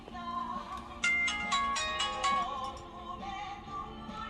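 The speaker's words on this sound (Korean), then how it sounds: "전화 옵니다." A mobile phone ringtone plays a bright melodic tune for an incoming call at a Seogwipo five-day market on Jeju, moderately loud over a quiet, murmuring background.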